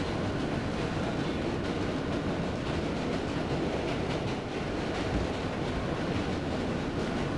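A New York City subway train rides along with a steady, dense rumble and rattle of wheels and cars. The roar is continuous and close, and no one speaks.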